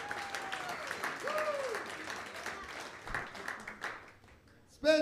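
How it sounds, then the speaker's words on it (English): Comedy club crowd applauding and cheering as a comic walks onstage, scattered clapping and whoops at moderate distance, thinning toward the end before a short loud burst at the close. "Everybody make some noise for Ram Barnacle!"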